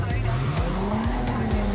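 Car driven in the video game Cyberpunk 2077, a new, very powerful car in the rain, with a steady engine drone that rises in pitch as it accelerates, under brief tyre squeals and someone talking over it.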